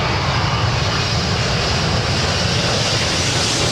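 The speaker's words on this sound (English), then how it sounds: "flight 603 from Amsterdam and a 777-200ER." A KLM Boeing 777-200ER jet arriving from Amsterdam passes overhead at LAX, a loud, steady, broadband engine roar with deep rumble that fills the whole moment without letting up.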